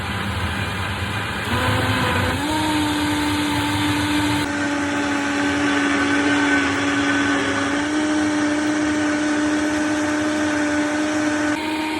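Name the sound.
Vitamix blender running on high speed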